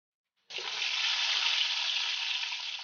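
Eggs drop into hot oil in a wok and burst into a sudden loud sizzle that holds steady and bright for a few seconds, with no voices over it.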